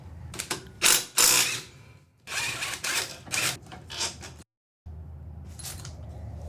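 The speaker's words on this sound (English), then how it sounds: "I'm going to use an impact." An impact wrench removes a 5/8 center bolt on a Husqvarna 54-inch riding lawn mower, hammering in several loud, close rattling bursts separated by brief pauses, including one moment of near silence.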